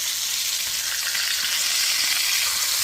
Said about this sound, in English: Can you hear it sizzle?